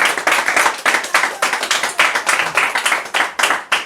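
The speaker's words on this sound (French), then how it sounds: "Laisse-nous applaudir Jésus ce matin." Church congregation clapping in steady, fairly quick rhythmic unison, sharp claps repeating about every quarter second, close and loud with no talk over them.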